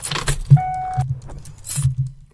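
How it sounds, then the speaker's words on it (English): Car keys jangle near the ignition, a few short metallic rattles at the start and end, with a brief electronic chime tone in the middle, close and fairly loud, with no talking. "We've got the car keys going."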